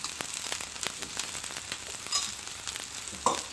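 Vanjiram fish pieces fry in oil with a steady crackling sizzle, sharp pops and spits breaking through now and then, close and moderately loud with no talking.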